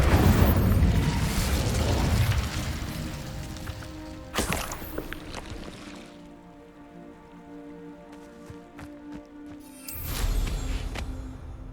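An Incendio fire spell in Hogwarts Legacy erupts with a loud roaring whoosh, then a sharp burst near the middle and a crackling rumble that fades before another flaring blast near the end.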